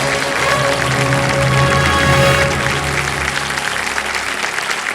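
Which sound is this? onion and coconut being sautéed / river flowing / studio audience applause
studio audience applause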